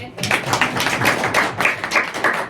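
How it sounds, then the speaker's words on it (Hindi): A church congregation in Ajmer claps along in a steady rhythm, sharp hand claps repeating roughly every quarter second, close and moderately loud, with some voices mixed in. "तालियां बजाओ"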